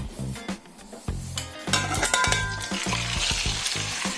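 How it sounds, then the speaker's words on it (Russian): Meat browns in a hot pan for pilaf, a loud, continuous sizzle broken by irregular stirring scrapes and clatter, close by. "Сейчас мы будем обжаривать мясо."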